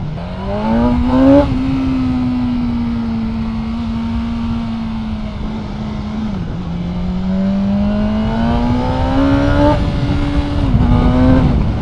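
A BMW M 1000 R Competition naked motorcycle engine revs up loud and close, its pitch sweeping upward through the gears, dipping briefly, then climbing again in a sustained, strong engine roar with no talk.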